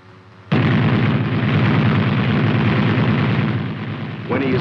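The cupola machine gun on an M551 armored reconnaissance/airborne assault vehicle opens fire in one loud, sustained rapid burst of shots that starts abruptly and runs for about four seconds before cutting off.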